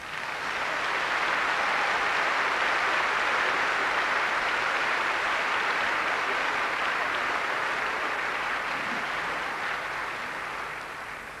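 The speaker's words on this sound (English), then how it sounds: "You may clap, they deserve it." Audience applause at a Christian gathering rises within the first second, holds steady as an even wash of clapping, and tapers off near the end.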